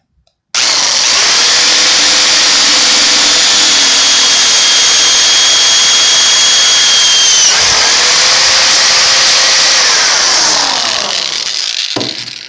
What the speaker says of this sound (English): so I'm back with the bigger drill bit. We'll see how this one works.